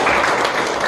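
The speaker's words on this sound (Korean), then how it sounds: "다 함께 감사의 박수 크게 함께 드리겠습니다" An audience claps in thanks at a book launch and debate event at the National Assembly, a brief, loud burst of dense applause.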